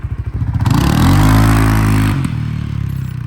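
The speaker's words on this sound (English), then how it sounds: "let's see if I can wheelie it." A CFMOTO CForce 600 ATV, bought wrecked, with its engine revving hard in a wheelie attempt: a loud, close engine that climbs from idle to a sustained high rev, then drops back to a steady idle.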